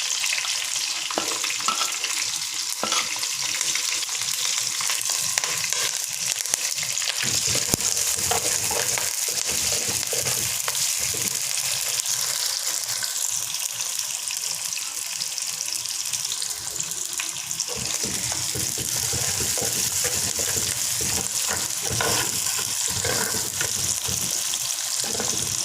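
Onions, dried red chillies and curry leaves crackle and sizzle in hot oil for a sardine curry, with a steady loud hiss, occasional stirring scrapes and a watery, tap-like wash running throughout.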